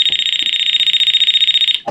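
Handheld voltage tester detecting live electricity at a wall thermostat, emitting a loud, rapid, steady high-pitched pulsing beep that stops abruptly near the end.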